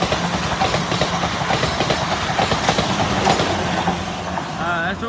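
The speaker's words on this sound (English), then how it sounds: "came rattling past. That's the second train that's caught me really unawares." A train rattles past at St Denys on the South Western Main Line, close and loud, with continuous clickety-clack from the wheels and a steady roar that fades slightly at the end.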